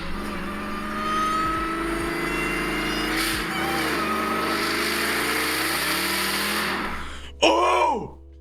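A car engine revs hard toward its limit, a loud sustained roar with rising and falling pitch swells, ending in a brief sharp surge and a whining drop near the end.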